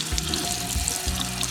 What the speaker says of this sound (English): get them in the sink, a little bit of water, and you're just going to clean all that slime and mud and junk and gunk off of them